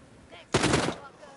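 A single loud pump shotgun blast in The Walking Dead Saints & Sinners VR game, a sharp burst with a short ringing tail, heard alone.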